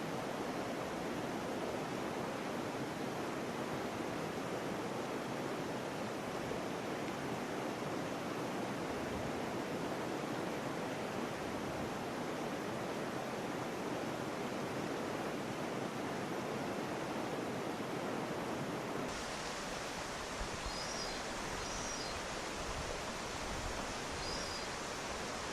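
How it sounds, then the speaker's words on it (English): A babbling brook plays as a nature sound effect, a steady, full wash of flowing water that runs continuously at an even loudness, with faint bird chirps appearing near the end. "We got some nice babbling brook sounds for you."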